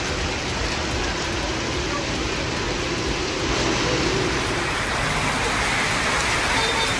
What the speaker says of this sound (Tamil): சுமார் 1 மணி நேரம் பெய்த கனமழையால் வாகனம் தண்ணீரில் தத்தளித்து சென்ற காட்சிதான் இது.